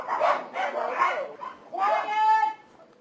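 Dogs bark at a puppy farm in New Zealand, with several short, close bark bursts followed by a higher, drawn-out yipping whine.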